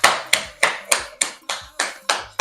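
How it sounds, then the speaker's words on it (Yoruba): An audience at a Yoruba-language quiz applauds itself with crisp, evenly spaced claps, about eight sharp strikes in a steady rhythm, close and loud with no talk. "Ẹ pàtẹ́wọ́ fún ara yín."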